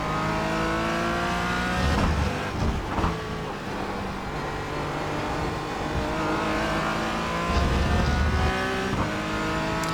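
Porsche Cayman GT4 racing around Sebring in the iRacing simulator, a loud, continuous engine note with revs climbing and dropping through gear changes, plus thumps over curbs.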